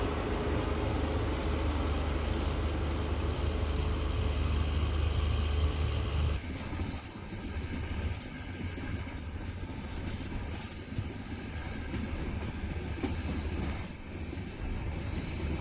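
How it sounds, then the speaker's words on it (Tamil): Hubli to Rameswaram special express train rolling along the tracks, a loud continuous rumble of wheels with repeated high squeals from the rails, close and alone. "zero 7355 Hubli to Rameswaram special train"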